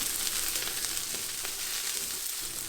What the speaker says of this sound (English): I'm now going to add the mushrooms and cook for another minute or 2.